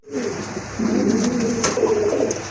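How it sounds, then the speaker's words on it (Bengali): A pair of Rajgolla pigeons coos in low, soft, rolling phrases that run steadily from close range, with a faint airy background and no talking. "আরেক জোড়া রাজগোল্লা কবুতর"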